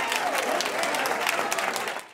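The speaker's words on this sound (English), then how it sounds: "the sound of cheering and applause filled the room" Cheering and applause in a meeting room, a dense, continuous wash of clapping from many hands with crowd voices mixed in, loud and close throughout.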